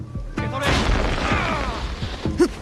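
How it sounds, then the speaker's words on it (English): Explosive tricks go off in a stealth action video game, producing a series of booming bursts and crashing debris that builds into a sustained rumble, then ends with a final sharp pop. "call upon our ally Genojo and some of his exploding tricks"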